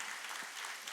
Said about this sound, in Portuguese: Vamos aplaudir o Mateus, ele está nos honrando com sua presença aqui hoje.